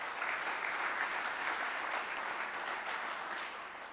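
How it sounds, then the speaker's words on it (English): Sustained audience applause closing a conference panel session, a full, even roar of clapping from a large room that holds steady, then eases slightly toward the end. "Please join me in giving them a big round of applause."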